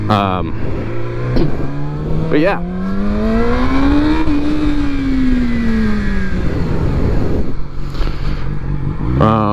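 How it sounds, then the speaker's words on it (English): A Yamaha R6 motorcycle engine idles, then revs up in one long rising sweep and winds back down, loud and close, with a brief spoken remark near the start. "I'll do some revs so you can hear it"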